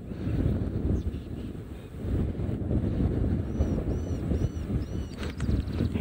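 Wind buffets an outdoor microphone at a safari location, a steady low rumbling roar with gusty swells, and a few faint high chirps over the top.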